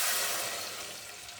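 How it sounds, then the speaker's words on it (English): Three cups of water poured over a cup of rinsed rice in a pot, a steady close splashing rush that fades slightly over its short length, with no talk. "That's a cup of rice, to which we add 3 cups of water."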